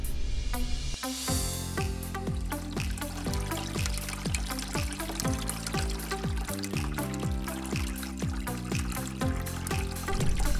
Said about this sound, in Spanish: la ponemos a andar e inmediatamente después de que la marquesina se activa, en este caso la cabeza de poder, pues el agua comienza a circular